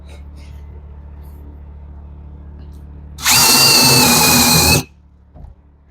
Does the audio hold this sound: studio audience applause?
no